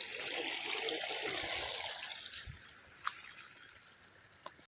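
Cold water flows through a hillside stream in the Konkan countryside, a soft steady trickling rush that fades after a couple of seconds, followed by a few faint splashes and drips.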